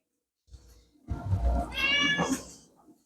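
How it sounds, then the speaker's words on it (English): Several house cats meowing nearby, a short call followed by a longer, louder drawn-out meow with clear harmonic tones, heard alone without talk. "All the cats are really antsy tonight for some reason."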